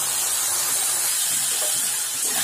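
Potatoes and ridge gourd fry on full flame in a pan, giving off a loud, steady, close sizzling hiss with no pauses.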